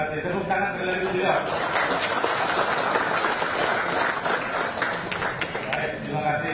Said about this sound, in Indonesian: Tepuk tangan sekali lagi juga.